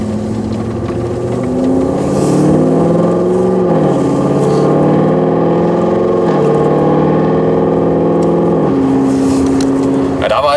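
Audi RS6 4G twin-turbo V8 with tuned software, exhaust in sport mode, heard from inside the car: a loud, steady engine drone with pitch rising and dropping through several gear changes, with voices talking over it.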